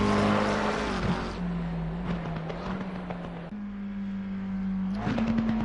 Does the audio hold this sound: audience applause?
no